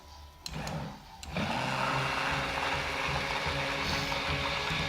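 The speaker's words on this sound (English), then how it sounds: "we're gonna add our wonderful emulsion blender, and we're gonna put that on low" An immersion blender switches on at low speed in a bowl of dechlorinating lotion, giving a short start-up whir and then a steady, close mechanical hum with no one speaking.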